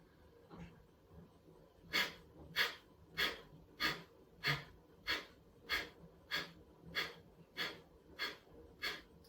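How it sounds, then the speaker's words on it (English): Steady nasal breathing during a yoga session, about a dozen slow even in-and-out breaths in a regular rhythm, close and moderately loud, with no talking. "And then breathing into the palms of the hands."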